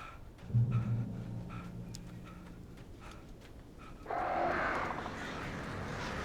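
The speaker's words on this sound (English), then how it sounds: "Birds." Crows caw in the horror video game Alan Wake, a few harsh calls over a low rumbling backdrop, followed by a louder, denser flurry of squawking birds near the end.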